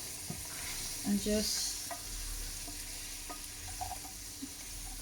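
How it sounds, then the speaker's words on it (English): Chickpeas are stirred into a thick sauce in a pan, with a soft continuous sizzle and scraping under an occasional brief spoken word, plus a couple of light utensil knocks near the start. "now we add in our chickpeas"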